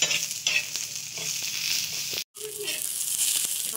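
Onion sizzles in a little oil for misal pav while being stirred, a close, steady crackling fry with occasional spoon scrapes and a brief cut in the sound partway through.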